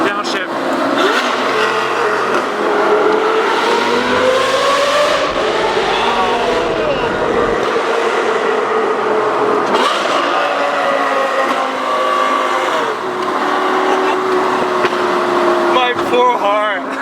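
A straight-piped Lamborghini Gallardo Superleggera downshifts and accelerates, its loud, rasping exhaust rising and falling in pitch through several gear changes, with excited talk inside the cabin over the engine noise.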